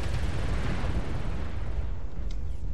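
Incoming missile exploding in MechWarrior Online, a dense, loud roaring burst of noise that fills under three seconds and fades slightly toward the end.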